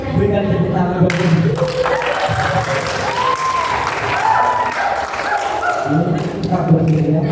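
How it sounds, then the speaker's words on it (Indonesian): Sustained applause from a seated crowd at a church wedding blessing rehearsal, steady and close, with scattered claps and murmuring throughout. "Berikan tepuk tangan bagi"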